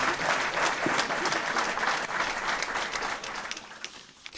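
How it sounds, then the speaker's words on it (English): Steady applause and clapping from an audience during a live music stream, dense and continuous before thinning out toward the end. "Thanks for the claps, guys."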